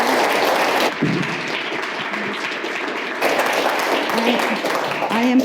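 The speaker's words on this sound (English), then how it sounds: "Can we give a round of applause?" A tech-talk audience at a psychiatry technology event gives the speaker a round of applause, a loud burst of mixed clapping with murmuring voices underneath, dipping briefly and then swelling again.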